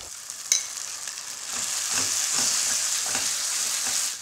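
Balti masala paste frying in a pan with cooked pureed spinach stirred in for a paneer curry, a steady close sizzle with a brief spatter near the start and soft stirring scrapes throughout, no voices.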